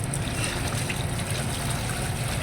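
Water tipped from a dipper into a channel drain during clearing, a steady close gush and trickle running without pause under a low rumble.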